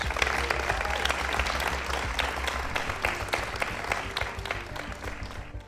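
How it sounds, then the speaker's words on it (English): A crowd applauds to congratulate the Columbus Crew soccer team, sustained clapping with a low hum underneath that gradually thins out toward the end. "Give them a big round of applause"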